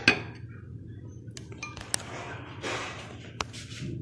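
Metal utensils clinking against dishes while mutton biryani is served out, a few faint scattered clinks and taps with a short scraping rustle in a quiet kitchen.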